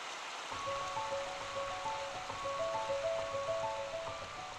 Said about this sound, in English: The water rolling over the rocks, the wind in the trees.